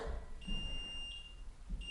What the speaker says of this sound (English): you hear that sound, that beeping sound, that means we are in neutral